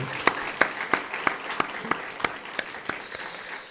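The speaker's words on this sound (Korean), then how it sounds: "우리 하나님 앞에 영광의 박수를 올려드리겠습니다." A congregation at a Wednesday evening church worship service claps together in a steady, even rhythm, sharp close claps about three per second over a soft crowd background.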